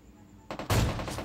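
Gunfire in the battle-royale video game PUBG Mobile: a couple of quick shots, then a loud, sustained burst of rapid fire filling the rest of the short moment.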